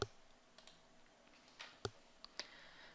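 A postcode being typed on a computer keyboard: a handful of sparse, quiet key clicks at uneven intervals, close but faint against a hushed room.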